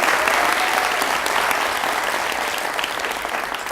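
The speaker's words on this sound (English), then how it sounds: "one more round of applause for the Cultural DC team" An audience at an arts event claps in loud, dense, continuous applause that stays strong throughout and eases only slightly at the end.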